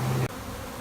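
Honeybees fanning at the hive entrance, a soft close buzzing hum with a steady tone for a brief moment, then a fainter background drone.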